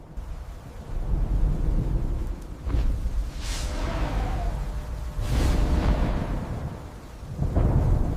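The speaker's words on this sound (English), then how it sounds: "Thunder exploded with such force that the ground vibrated." Loud thunder rolls and booms during a storm, with several heavy rumbling surges and crackling bursts one after another, close and powerful, with no voices.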